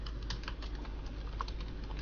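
Code being typed on a computer keyboard, a steady run of soft close key taps over a low hum, with no talking.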